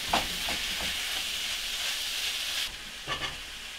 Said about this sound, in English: So we'll go ahead and add the bacon into the mix.